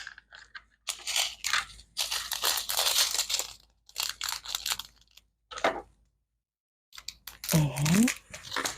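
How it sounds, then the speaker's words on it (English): Scissors snip and crinkle through a thin plastic bag of diamond painting drills in short bursts, close and moderately loud, with quiet pauses between cuts and a brief voice near the end. "And cut the bag."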